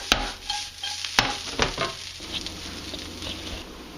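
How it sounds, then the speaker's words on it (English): Onions caramelizing in a frying pan are stirred with a few scraping strokes near the start, then settle into a soft, steady sizzle at low level. "At this stage we'll also need to be stirring the onions a little more"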